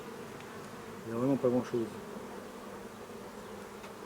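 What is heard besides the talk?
honeybees buzzing around an opened hive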